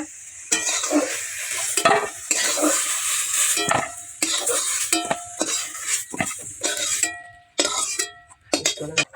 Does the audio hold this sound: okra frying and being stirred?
yes